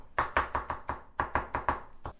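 A knife chopping cucumber on a cutting board: about ten crisp, close, evenly spaced thuds in two quick runs with a brief pause between, no speech.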